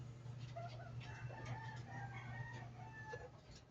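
A Lemon-bloodline broodcock, a brown-red gamefowl rooster, gives soft repeated clucks near a steady low electrical hum, the calls faint and close together over a few seconds.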